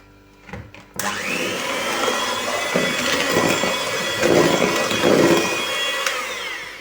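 An electric hand mixer whirs steadily as it beats eggs with sugar for a pear zebra pie, starting abruptly after a brief clatter and running loud and continuous, with a few slight shifts in pitch and load.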